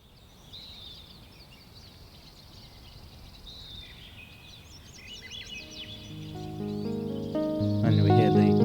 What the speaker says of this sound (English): then here's some bird song.